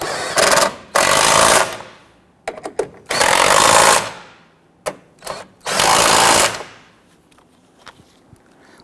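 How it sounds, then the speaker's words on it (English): A power impact tool snugs down the upper strut nuts on a Dodge Charger, three long loud rattling bursts separated by short clicks and pauses, close up. "Let's snug down the nuts here first."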